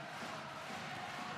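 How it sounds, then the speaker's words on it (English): Crowd of French fans cheering at a women's European handball final, France against Norway, a dense, steady roar of many voices filling the arena without a break. "Good cheer from the French"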